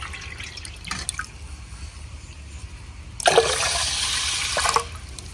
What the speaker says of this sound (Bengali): চাল আর ডাল সেদ্ধ হওয়ার জন্য দিয়ে দিতেছি পানি